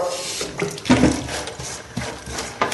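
Water pours from a tap into flour while mixing wholemeal pizza dough, in short splashy bursts at close range.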